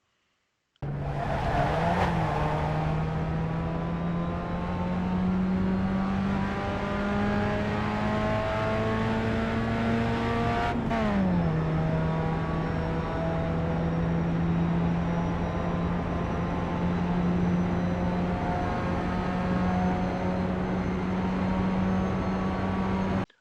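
Simulated Pontiac Solstice race car lapping the Charlotte Roval in iRacing, a steady loud engine drone holding pitch with a brief revving shift and tire squeal near the middle, continuous throughout with no talk.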